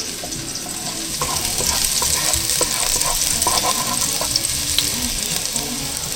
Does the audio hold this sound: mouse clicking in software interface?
no